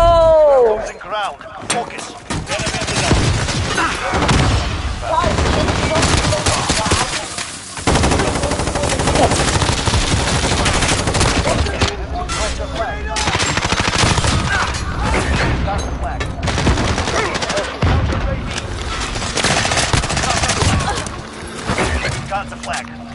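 A video game gun fires in rapid automatic bursts, a loud sustained rattle of shots broken by brief pauses, with a voice talking over the gunfire.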